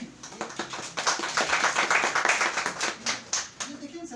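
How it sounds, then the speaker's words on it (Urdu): Applause breaks out at an office business meeting, a crowd of people clapping steadily for about four seconds at close range, with some talking mixed in. "تالیاں تو بنتی ہیں"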